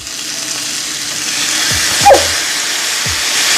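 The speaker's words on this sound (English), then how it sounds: "And now I'm just gonna add one tablespoon of water." Asparagus spears in a hot stovetop pan sizzle as a tablespoon of water is added, producing a steady, close frying hiss that swells briefly partway through.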